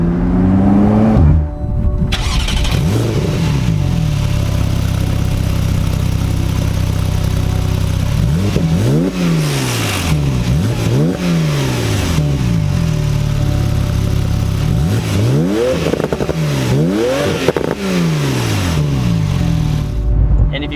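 A 2016 Porsche 911 (991.2) engine revs repeatedly through an aftermarket exhaust, rising and falling in several sharp sweeps over a steady idle rumble, loud and close.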